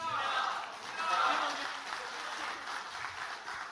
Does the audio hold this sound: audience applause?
yes